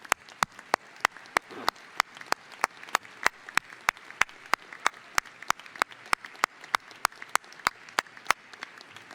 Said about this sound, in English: please join me in another round of applause acknowledging the University of Wisconsin Parkside faculty